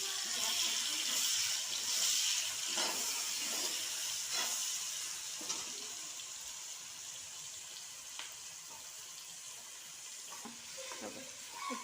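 Onions being fried in a pan with already-fried meat and potatoes for chicken pulao: a steady oily sizzle and hiss, with occasional soft pops and clinks, gradually settling a little quieter.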